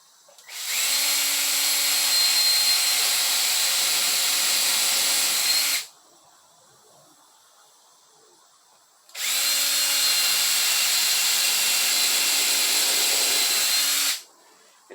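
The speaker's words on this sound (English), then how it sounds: "Now what we got to do is drill our other 2 holes." A power drill whines steadily through two long passes drilling holes in wood, each several seconds, separated by a short quiet pause, loud and close.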